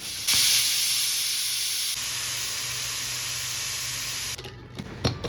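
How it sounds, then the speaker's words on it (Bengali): Steam bursts from a pressure cooker as its whistle is lifted after the first whistle, a loud, close, steady hiss lasting about four seconds before it drops away, followed by a few soft clicks. "একটা সিটি পড়ার পর অর্ধেকটা বাষ্প কিন্তু আমি সিটিটা তুলে বের করে নিয়েছি।"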